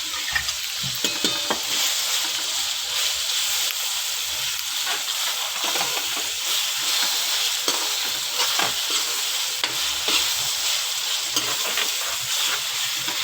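Tomatoes and green chillies fry in a pan for a cauliflower and minced mutton curry, a loud continuous sizzle with frequent stirring scrapes and crackles, no voices.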